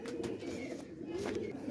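A teddy pigeon coos softly nearby in low, rolling murmurs that repeat through the short stretch, with no talking.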